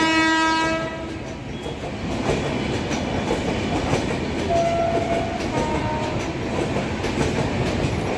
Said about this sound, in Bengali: এই ট্রেনটা আসছে প্ল্যাটফর্ম নাম্বার 4-এ, এটা ডাউন ট্রেন, এটা যাচ্ছে শিয়ালদার দিকে